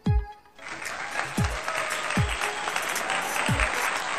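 Sustained crowd applause with steady dense clapping running through the whole stretch, preceded by a short pause, with a few low thumps punctuating it.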